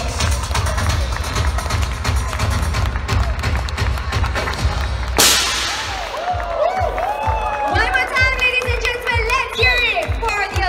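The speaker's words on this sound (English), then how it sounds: "let's give the brand a big, big round of applause" A crowd applauds at a brand store launch on stage, with dense clapping at first. A sharp burst cuts in partway, then a rhythmic thumping beat with tonal sounds carries on over the fading claps.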